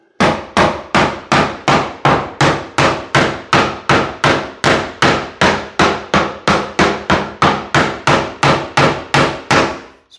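Knocking on a timber-framed wall to find the studs, around two dozen loud, evenly spaced thuds in a steady rhythm close by, with no talk.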